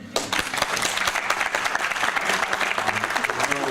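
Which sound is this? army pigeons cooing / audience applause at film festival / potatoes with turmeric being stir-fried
audience applause at film festival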